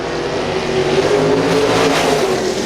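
A winged or non-wing sprint car roars past loud and close on the Butler Battlegrounds dirt oval in Quincy, its high-revving engine a harsh sustained howl.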